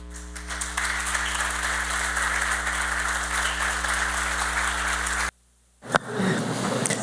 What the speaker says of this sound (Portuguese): levantai-vos para aplaudi-lo